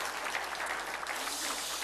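A Korean church congregation applauds during a Sunday morning worship service, producing steady, even clapping that fills the short stretch with no voices on top.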